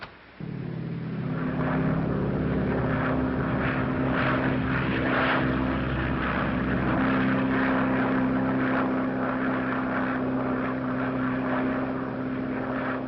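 A propeller airplane drones steadily in flight throughout, with the heavy, even engine roar holding constant from start to finish in a 1938 film soundtrack.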